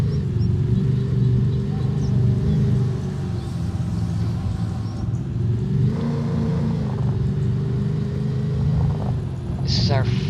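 An upgraded Ford Mustang engine in Farming Simulator 25 runs steadily while driving, a continuous loud rumble with slight rises in pitch, and a voice talks briefly near the end.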